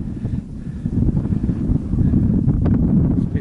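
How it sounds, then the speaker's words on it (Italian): Wind blusters across a snowy mountain summit in the Simbruini range, a steady low roar buffeting the microphone throughout, loud and continuous with no voices. "viene un po' di vento"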